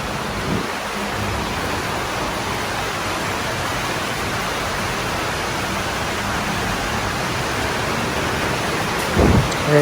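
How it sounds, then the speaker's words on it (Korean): Heavy rain pours down on a Bangkok street, a dense, loud, constant hiss that fills the whole scene with no break, and a brief bump near the end. "여러분 소리 들리시죠? 빗소리."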